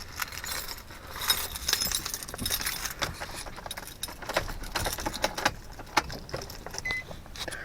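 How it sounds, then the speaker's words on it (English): A bunch of car keys for a Nissan 350Z jangles and clinks steadily and close up for several seconds, with no talking. "A bunch of keys."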